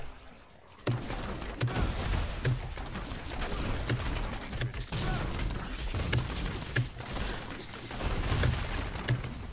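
Rockets in Diablo 3 burst all around a Demon Hunter in a continuous dense barrage of blasts and crackling impacts, loud and busy with a rapid, uneven rhythm.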